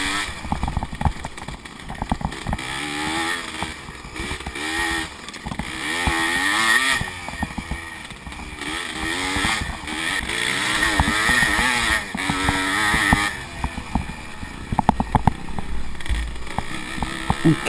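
A 1986 Yamaha IT 200 two-stroke dirt bike races in a scramble, its engine buzzing and revving continuously with rising and falling pitch through gear changes, close and loud with wind noise.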